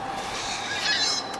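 Seagulls calling at a beach, with several thin, high cries drifting in and out over a steady wash of wind and surf, fairly distant and continuous with no talking.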